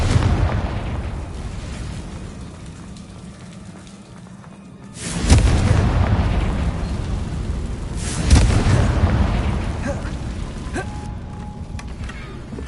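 In Hogwarts Legacy, a Confringo spell detonates in two heavy booming blasts several seconds apart, each followed by a rumbling, crackling tail of debris over a low ambient game background.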